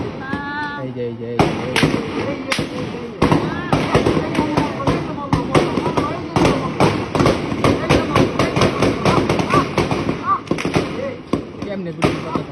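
Sharp, loud bangs of gunfire during street unrest in Jatrabari, Dhaka, a dense series of rapid cracks and reports of varying intensity that continues for the whole stretch, mixed with shouting voices.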